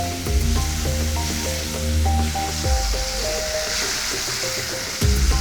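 Shrimp with turmeric sizzle steadily in a hot pan, with a close, continuous frying hiss, occasional stirring scrapes and a low hum underneath.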